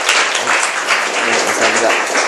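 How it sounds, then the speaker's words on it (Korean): A seminar audience claps in steady, dense applause to welcome a presenter, a continuous wash of hand claps with no voices over it. "큰 박수로 환영해 주시기 바랍니다"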